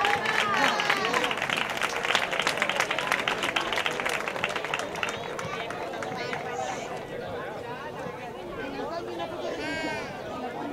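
Applause from an audience at a school end-of-year ceremony in Almonte, a dense sustained patter of many hands that stays steady and gradually softens, with chatter and voices mixed in.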